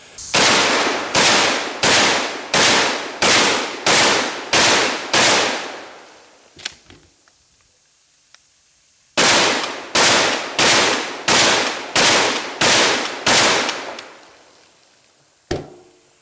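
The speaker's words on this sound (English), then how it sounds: "What we call it, the Slug barrel shoot" Shotgun slugs fired at a barrel at a shooting range: two rapid strings of about eight loud, evenly spaced blasts each, with a short echoing pause between, then a single last shot.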